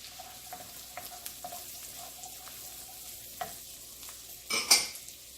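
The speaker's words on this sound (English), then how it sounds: "I give it about 10 seconds for the garlic, just to infuse into the oil, and then I put my shallots in it" Garlic and shallots frying in oil in a pan, a low steady sizzle with light stirring taps, then a louder burst of sizzle and clatter near the end.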